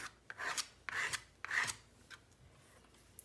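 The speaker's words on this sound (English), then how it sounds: "You can scrape while it's really wet to have the pigment settle into the lines" A tool scrapes wet watercolor pigment on paper in short, soft rasping strokes, about four clear passes and then fainter ones, close and quiet, with no talking.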